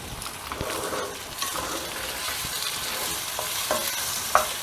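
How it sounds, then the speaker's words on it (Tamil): Spices tempering in hot ajwain oil for a mango and green chilli thokku, a soft steady sizzle with light stirring scrapes and a sharp clink near the end, fairly quiet and close, with no talking. "ஓமத்தில் இப்போ தாளித்து காமிச்சிருக்கேன் பாருங்கள்"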